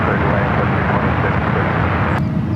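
A Frontier Airbus A320neo roars steadily at San Francisco International Airport, with a broad jet-engine rumble close by and loud throughout. Faint talk sits underneath.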